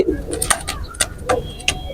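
A pair of teddy pigeons coo loudly and close, several short throaty calls in quick succession, with a voice speaking in between.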